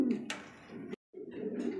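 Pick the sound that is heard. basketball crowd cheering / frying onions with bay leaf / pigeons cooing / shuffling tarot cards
pigeons cooing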